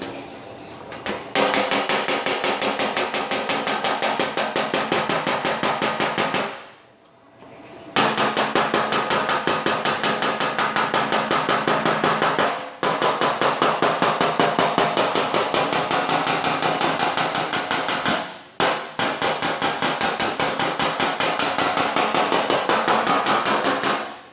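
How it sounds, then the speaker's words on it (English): Rapid, steady hammering with the pick end of a near ball-peen body hammer, knocking down a ridge in a 2010 Honda Civic sedan fender, in long continuous bursts with brief pauses between them and no talk. "And now I'm going to go take this ridge down with this pick end of it."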